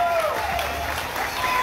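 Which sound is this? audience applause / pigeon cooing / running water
audience applause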